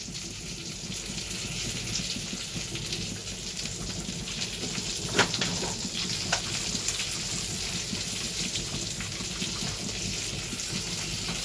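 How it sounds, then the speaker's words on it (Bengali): A little water trickles into a bowl of spice paste for brinjal and hilsa, a soft continuous splashing pour with a couple of light knocks midway, nobody speaking. "এই যে এর মধ্যে একটু জল দিয়ে দিচ্ছি, মশলাটা একটু ভিজিয়ে দিলাম।"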